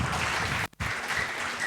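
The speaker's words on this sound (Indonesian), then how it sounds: "Yang menerima pendosa berikan tepuk tangan meriah buat Tuhan kita." A church congregation at a worship service applauds for God with a dense, continuous burst of clapping, broken by one very short pause midway, with no voices over it.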